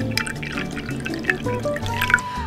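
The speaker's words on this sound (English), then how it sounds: "let me pour you a cup of coffee" Freshly brewed coffee is poured into a cup in a steady, close liquid stream with small splashes and a rising trickle, with no voices.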